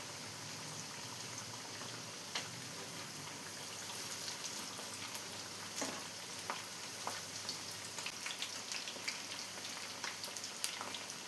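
Pieces of food frying in oil in a pan after being turned over, a steady close sizzle and crackle with scattered pops throughout and no voices.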